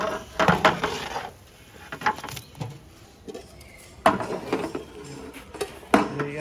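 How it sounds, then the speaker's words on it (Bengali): A wok is lifted off the stove and set down once the vegetables are cooked, making several close metallic clanks, knocks and scrapes in a quiet kitchen. "সসপ্যান থেকে ওই যে কড়াই উঠে রাখা হচ্ছে"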